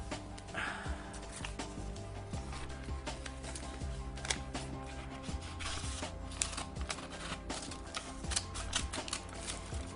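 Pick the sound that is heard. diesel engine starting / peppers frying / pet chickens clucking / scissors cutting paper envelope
scissors cutting paper envelope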